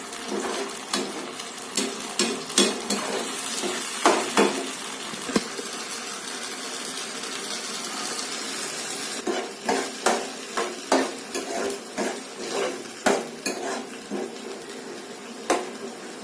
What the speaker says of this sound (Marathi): ही टोमॅटोची प्युरी आता छानपैकी परतून घ्यायची आहे.